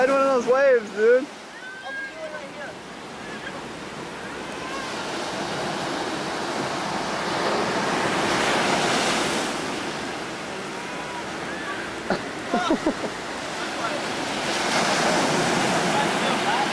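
Ocean surf rolls and breaks along a Puerto Rico beach, a broad continuous wash of waves swelling and receding over many seconds; brief shouts and chatter from people nearby cut in near the start and again in the middle.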